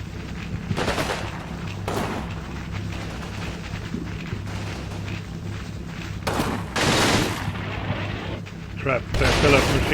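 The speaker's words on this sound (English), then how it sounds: "they still have machine gun in here" Machine gun fire and battle noise from the World War II strategy game Combat Mission, Italian campaign near Celleno, with several loud broadband bursts standing out over a steady low rumble of distant combat, and a voice talking throughout.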